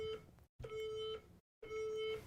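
A countdown timer beeps three times at the end of its countdown, each a sustained electronic tone separated by short silent gaps, fairly quiet and heard alone.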